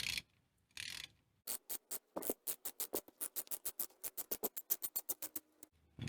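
A ratchet wrench loosening a stabilizer bar link bushing bolt on a Mitsubishi L200, a few tentative clicks and then a fast, even run of close, crisp ratcheting clicks before a soft thud at the end.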